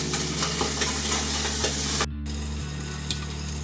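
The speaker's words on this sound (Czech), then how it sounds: "Velice důležitá věc, když smažíte chobotnici, je důležitý přikrýt pánvičku." Octopus sizzles in hot oil in a covered frying pan, a loud continuous crackling fry that briefly cuts out, then resumes more quietly with occasional clicks and no talk.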